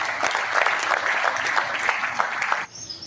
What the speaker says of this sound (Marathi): एकदा जोरदार टाळ्या तुमच्या सगळ्यांसाठी